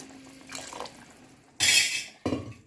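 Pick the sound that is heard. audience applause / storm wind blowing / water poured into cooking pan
water poured into cooking pan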